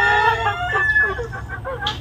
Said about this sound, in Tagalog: Papalibutan ako manok.